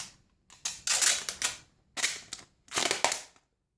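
Wide adhesive tape is pulled off a roll and torn in three rasping bursts, the sound crackly and close with short pauses between pulls.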